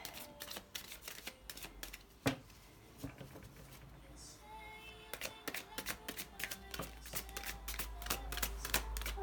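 Tarot cards shuffled by hand in a run of irregular, close riffling clicks and soft slaps, one sharper snap partway through, with no talking.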